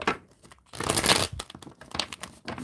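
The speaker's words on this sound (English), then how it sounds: "I was just trying to shuffle the cards and they was getting away" Tarot cards being shuffled and slipping loose, a run of close, papery crinkling and riffling bursts with a louder flurry in the middle, no voices.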